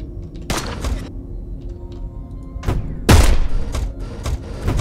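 Guards in the space-heist video game Heat Signature fire on the player: a few sharp gunshot bursts, with one loud close blast near the middle, over a low game hum.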